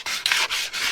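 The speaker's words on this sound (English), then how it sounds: "So let's go ahead and just keep sanding" Sandpaper rubs back and forth across a small wooden thrift-store piece, giving four close, loud, rasping strokes in a steady rhythm with no voices.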